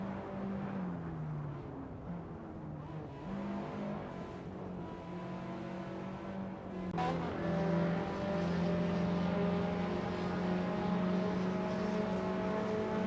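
Sports car engines in a racing video game, including a Mitsubishi, whine steadily at high revs, shifting pitch around the midpoint before a louder, sustained drone continues to the end.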